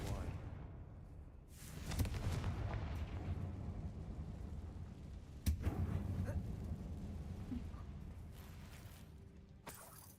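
Confringo blasting spell explosions in the video game Hogwarts Legacy, inside an abandoned mine: a couple of rumbling bursts with whooshing debris over a low ambient drone, fairly faint overall.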